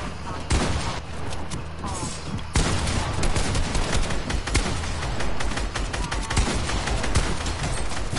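Dense bursts of rapid gunfire from a video game build-and-shoot match, loud and near, with overlapping volleys and sharp cracks running almost continuously after a brief lead-in, a voice occasionally speaking under the shooting.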